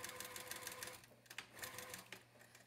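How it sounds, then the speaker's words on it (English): Sewing machine stitching and backstitching quilt binding, a close, steady mechanical whirring chatter with brief pauses and restarts as the direction reverses. "when I'm sewing the binding, I will often backstitch at the start and finish of the binding area."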